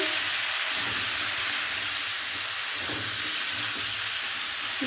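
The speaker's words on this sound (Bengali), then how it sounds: "তারপর হলুদ একটু দিয়ে একটু নাড়াচাড়া করছে" Prawns with vegetables fry in a pan after turmeric and salt go in, giving a steady broad hiss and sizzle, close and even, with a few faint stirring scrapes and a low background hum.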